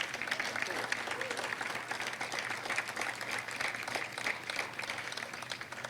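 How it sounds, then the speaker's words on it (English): At a groundbreaking ceremony for a high school of architecture and interior design, a crowd applauds with steady, fairly distant clapping, and faint voices run underneath. "they deserve a big round of applause"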